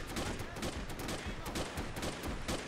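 A Vickers machine gun in Men of War: Assault Squad 2 rattles in rapid, evenly spaced bursts of sharp shots, steady and moderately loud over a rumbling battlefield backdrop.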